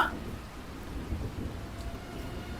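Steady rain pours down with a deep, continuous rumble of thunder filling the background, no voices present.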